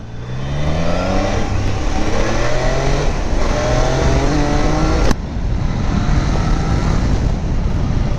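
A 2025 Triumph Daytona motorcycle accelerating hard, its engine revving loudly and rising in pitch through several gears with short breaks at each shift, close and continuous under strong wind rush.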